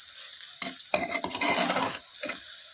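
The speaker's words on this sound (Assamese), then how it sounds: "ভালদৰে লৰাই দিছোঁ চাবচোন।" Pulao is stirred in a pan with sugar, salt and cumin powder, a spoon scraping and tossing in quick uneven strokes over a sizzling hiss, close and fairly loud with brief pauses.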